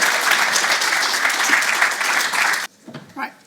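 A hall audience at the Somali Week Festival 2023 launch gives a warm round of applause, steady dense clapping that stops abruptly near the end, followed by a few quiet voices and shuffles.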